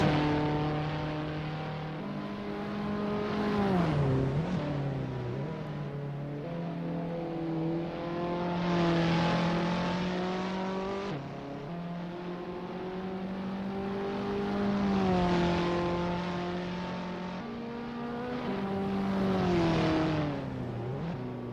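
An Abarth 500 engine in the Assetto Corsa racing game on a practice lap, droning steadily and rising and falling in pitch through repeated gear shifts and throttle changes, continuous and without speech.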